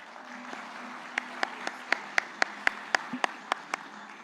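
Sharp, evenly spaced claps ring out about four times a second at a livestock-market analysts' panel, crisp and fairly close over a quiet room hum rather than a full crowd ovation.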